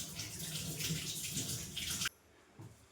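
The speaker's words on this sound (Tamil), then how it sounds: "தக்காளியை வந்து வாஷ் பண்ணிக்கலாம்." Tomatoes are washed under running tap water, a steady splashing rush that stops abruptly after about two seconds and leaves faint drips and small sounds.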